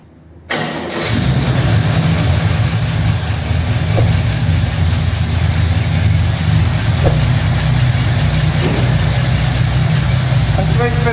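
A Chevrolet Opala six-cylinder engine turns over and settles into a steady warm-up idle, loud and close, with a continuous low rumble that holds even for about ten seconds.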